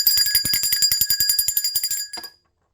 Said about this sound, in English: Let's ring the bell for Tammuz and the goat.